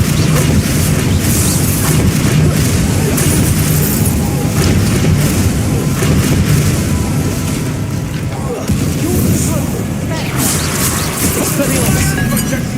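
Spell explosions burst in a Hogwarts Legacy battle, with dense repeated booms, crashes and clinks layered over shouted incantations and game voices throughout.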